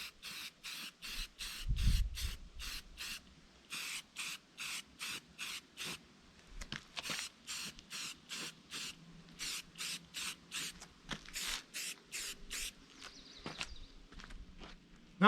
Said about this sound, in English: I'm going to give it a coat of primer